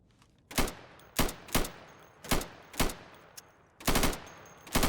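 Rifle fire at plywood targets in the Insurgency game, loud separate sharp shots in an uneven rhythm of single shots and quick doubles, with a short burst near the end.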